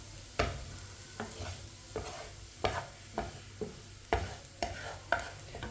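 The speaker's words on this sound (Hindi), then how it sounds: "1-2 मिनट के लिए मसाले को मैंने भून लिया है।" Spices being stir-roasted in a pan for an aloo paratha filling, a spoon scraping and tossing them in a steady rhythm of about a dozen sharp strokes over a low sizzle, close and moderately loud.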